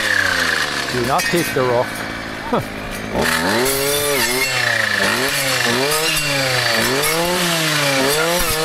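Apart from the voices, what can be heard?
chainsaw cutting down birch trees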